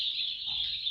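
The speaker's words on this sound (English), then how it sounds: "These are the birds." A flock of about 200 young chickens in a heated brooding house on a poultry farm produces a continuous, dense chorus of high chirping cheeps, steady and close.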